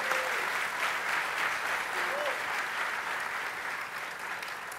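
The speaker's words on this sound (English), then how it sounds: "give a big round of applause to all the graduated projects this year" An audience applauds steadily at a tech keynote on cloud native technology, a sustained, even wash of clapping from a large crowd that stays loud for the whole stretch, with no talk over it.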